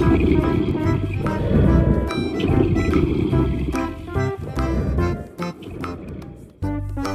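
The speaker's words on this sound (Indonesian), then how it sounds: "Ini adalah harimau." A tiger roars in the video game Jurassic World Evolution 2, giving a loud, rumbling growl that runs almost continuously. Sharp clicks and a few game sounds come through over it.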